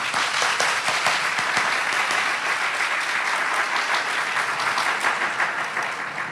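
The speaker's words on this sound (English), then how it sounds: "I think this also deserves a round of applause." Sustained applause from an audience at a college of pharmacy building's grand opening ceremony, a dense, steady wash of many hands clapping that fills the room and tapers slightly at the end.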